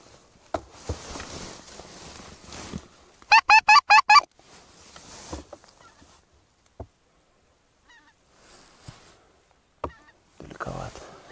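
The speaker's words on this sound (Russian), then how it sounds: "Пошел гусь." Geese honking in a quick burst of calls as a flock passes overhead during an autumn goose hunt, mid-distance, with quiet outdoor surroundings and a few scattered clicks and footsteps.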